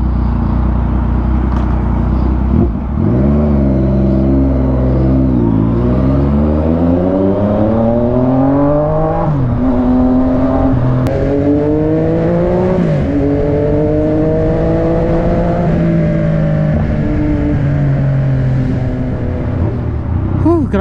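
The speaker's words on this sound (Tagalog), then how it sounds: "Balik sa traffic ulit tayo." A Yamaha MT-09 motorcycle is ridden through heavy city traffic, its engine loud and close as it climbs through the gears in repeated rising revs, each ending in a drop at the shift, over a steady wind and road rumble.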